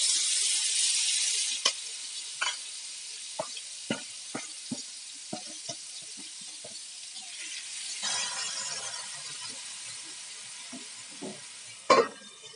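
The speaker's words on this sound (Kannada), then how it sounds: "ಈರುಳ್ಳಿ ಶುಂಠಿ ಬೆಳ್ಳುಳ್ಳಿ ಪೇಸ್ಟು ಸ್ವಲ್ಪ ಚೆನ್ನಾಗಿ ಎಣ್ಣೆಯಲ್ಲಿ ಫ್ರೈ ಆಗಬೇಕು." Onion, ginger and garlic paste fries in hot oil in a pan after cumin and asafoetida have crackled, with a hissing sizzle broken by a series of sharp clinks and stirring knocks.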